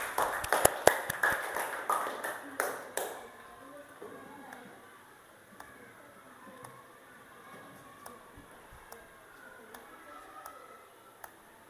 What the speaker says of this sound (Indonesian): Tepuk tangan buat Febri.